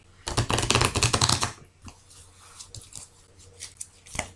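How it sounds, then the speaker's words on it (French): A deck of cards used for a card reading is shuffled in a dense burst of rapid riffling clicks, followed by scattered lighter taps and shuffles, close by, with no voices. "le temps que je batte ce jeu, le jeu de cartes, voilà, pour que je puisse bien mélanger"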